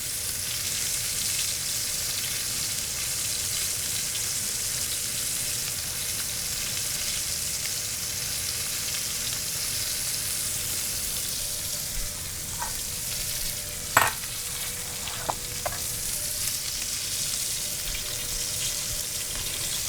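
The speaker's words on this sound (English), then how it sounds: "after I've seared both sides, I like to stand them up and get that fat nice and crispy as well" New York strip steak fat sears in a hot pan with a steady, loud hiss and crackle that continues without a break, with a few sharper pops and clinks near the middle.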